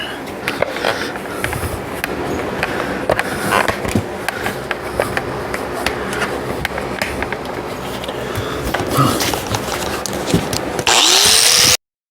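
An angle grinder with a wire brush scours a painted truck wheel part, giving a continuous harsh, close grinding scrub with irregular scrapes and knocks that swells louder near the end.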